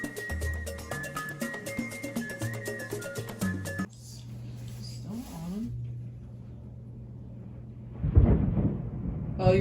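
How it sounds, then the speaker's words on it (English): Thunder from a thunderstorm outside rolls in as a low, steady rumble once background music stops, then swells into a louder, broader crash near the end. "It is a thunderstorm outside."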